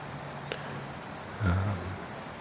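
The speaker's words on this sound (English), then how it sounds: "It's been raining for most of the night." Light, steady nighttime rain patters outdoors in a soft continuous wash, with a short low thump about halfway through.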